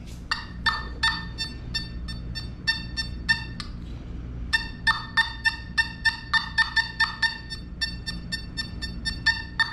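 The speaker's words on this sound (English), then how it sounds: "You get that crazy tone on bottle caps." Nokta FindX Pro metal detector sounding its warbling, quacking tone over a bottle cap: a fast series of sharp electronic chirps in clusters, with a brief pause midway before the rapid bursts resume, loud and close.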